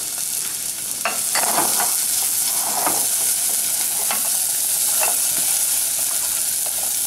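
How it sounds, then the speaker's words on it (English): Garlic and onion sizzle and crackle steadily in hot oil, with occasional stirring scrapes over the constant frying hiss. "You hear that sizzle straight away."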